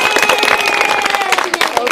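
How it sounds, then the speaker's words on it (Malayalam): An audience at a school event claps for a teacher, a brief burst of loud, uneven clapping with a few cheers and some voices mixed in. "അപ്പൊ ഒരു ക്ലാപ്പ് കൊടുത്ത ടീച്ചർക്ക്."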